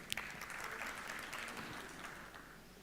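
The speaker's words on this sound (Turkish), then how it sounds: "Design VIP CEO'su Sayın Erbakan Malkoç'u alkışlarınızla sahneye davet etmek istiyoruz" Audience applause at the 2018 Istanbul Finance Summit as a company CEO is invited on stage, a dense steady clapping from a hall crowd that fades slightly toward the end.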